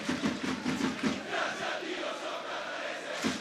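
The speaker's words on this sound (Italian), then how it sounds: "sentite in sottofondo i cori dei tifosi del Catania" Catania football supporters chant rhythmically in the stands during a match against Città di S.Agata, a sustained crowd chorus with pulsing repeated phrases, moderately distant and filling the stadium without commentary over it.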